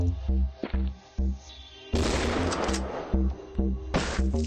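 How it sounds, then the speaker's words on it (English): Shotgun blasts in a video game, one heavy boom near the two-second mark and another near four seconds, loud and close over a looping game soundtrack with steady music underneath. "because this is a shotgun after all"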